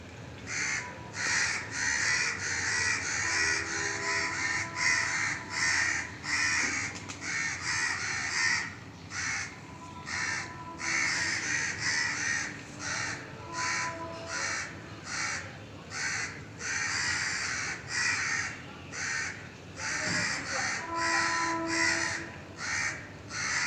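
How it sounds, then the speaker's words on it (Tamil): A flock of crows caws over and over in rapid, repeated bursts for the whole stretch, loud and close, with no talking. "காக்கா பாருங்கள் தொடர்ந்து கத்திக்கிட்டே இருக்கு பாருங்கள்"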